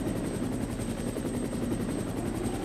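A helicopter in the video game Resident Evil comes in to land, its rotor a loud, steady droning thump that fills the scene without pause.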